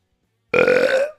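One loud, close belch after a beer bong, a sudden throaty burp lasting about half a second before trailing off, with no talking.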